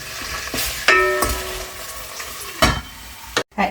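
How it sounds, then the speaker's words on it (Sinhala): Garlic and chilli pieces frying gently in a rice cooker, a soft steady sizzle with a few stirring scrapes and clinks, close and quiet, with no talking. "මම මේ ටික හිමීට බැදෙන්න තියන්න ඕනේ"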